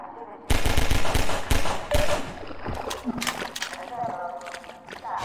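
Rapid bursts of gunfire from Half-Life 2 crack loudly and close, clustered in quick volleys with some faint splashing and game noise between them.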